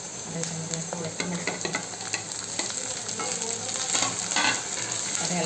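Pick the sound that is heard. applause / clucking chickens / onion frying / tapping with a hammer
onion frying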